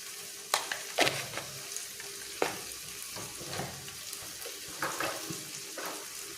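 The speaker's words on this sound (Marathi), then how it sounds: "आता हे सगळं परतून घ्यायचं" Spices with turmeric and garam masala sauté in a pan for a Malvani dried Bombay duck (bombil) chutney, a steady close sizzle broken by several sharp spatula scrapes and taps against the pan.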